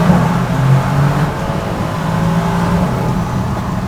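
A Mercedes GLC 63S revs loudly, its engine note echoing and booming in a tunnel. Pitch rises in a couple of surges, then a steady roar continues throughout.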